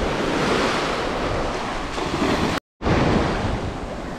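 Ocean waves wash onto the beach at Xcacel near Tulum as a continuous loud surf roar mixed with heavy wind buffeting the microphone, broken by a brief dropout.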